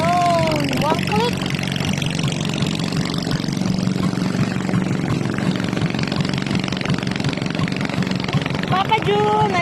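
A boat's motor runs at a boat-building workshop, a steady rumbling drone that holds for the whole stretch beneath voices talking nearby.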